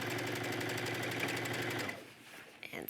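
A sewing machine runs continuously, stitching a wrap skirt seam onto a pair of leggings, a steady rapid mechanical chatter that stops near the end, leaving faint handling sounds.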